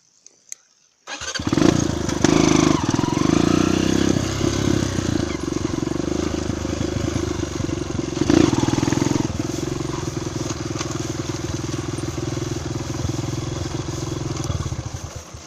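A Honda XR 200 trail motorcycle starts up abruptly after near silence and runs with a loud, rough mid-pitched engine note, revving once around midway, recorded close on a dirt trail.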